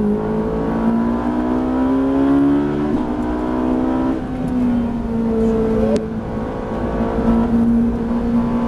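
A Ferrari 458 engine revs hard through the gears on the Le Luc race circuit, a loud, continuous rising howl with clear shifts and steady acceleration, heard from close up with no voices over it.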